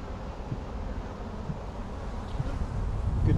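Honey bees on a brood frame pulled from a hive, a dense steady buzzing hum close to the microphone, growing slightly louder toward the end, with no talk.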